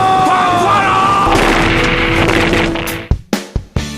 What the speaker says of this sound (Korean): 총소리와 대포소리가 뒤섞인 전쟁터